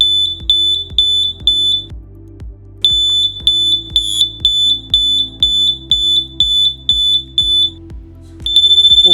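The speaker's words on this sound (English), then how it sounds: "constant light with pulsing buzzer" A 100-decibel safety alarm set to constant light with pulsing buzzer sounds loud, regular high-pitched beeps in a steady on-off rhythm, with a brief pause midway and a continuous tone at the end.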